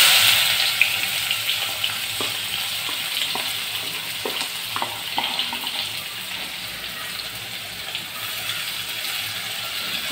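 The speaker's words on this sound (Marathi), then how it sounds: "त्याच्यामध्ये मी कांदा टाकणार आहे।" Sliced onion hits hot oil with bay leaf and cinnamon in a pan, giving a loud continuous sizzle with occasional stirring clicks and scrapes, easing slightly over ten seconds, no talk.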